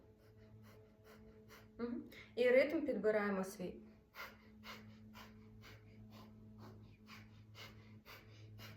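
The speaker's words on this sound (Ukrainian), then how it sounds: "Тому робимо дихання вогню таким, яким виходить, може бути доволі поверхневим." Rapid, rhythmic, forceful breaths pulse steadily through the nose, quick and evenly spaced, after a brief stretch of someone speaking.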